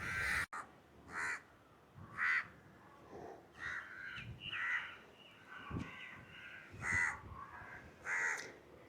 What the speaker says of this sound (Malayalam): നമുക്ക് കാക്ക വരുമെന്ന് നോക്കാം.